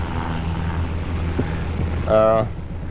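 A Yak-52 military trainer aircraft's propeller engine drones steadily in a low, even hum, with a brief louder tonal burst near the end.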